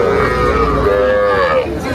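A Madhukhali-breed calf at a Tepakhola cattle market bawls for its mother, one long, loud, close moo that wavers and rises slightly, with no talk over it.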